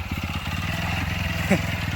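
A motorcycle engine chugs with a steady, rapid pulsing beat while riding through flood-hit Bamun Pukhuri, Assam, close and moderately loud, with a brief louder blip midway.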